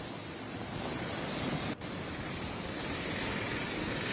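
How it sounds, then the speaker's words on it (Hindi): Strong cyclone winds on the Andhra Pradesh coast roar as a dense, continuous broadband rush with buffeting against the microphone, loud and unbroken apart from one brief dip. "यहाँ पर बारिश से ज़्यादा जो है तेज़ हवाएं चल रही है"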